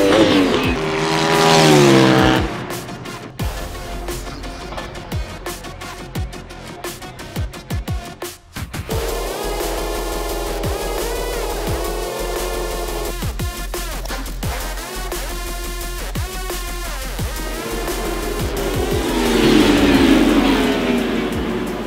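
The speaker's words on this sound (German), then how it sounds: "Angekündigt sind wir am Hockenheimring und gerade hier ist das Thema 98 dB Lautstärke-Limit" Loud race motorcycles at the Hockenheimring circuit scream past one after another, engines rising and falling in pitch with sharp gear changes and a strong close pass near the start and end, no voices.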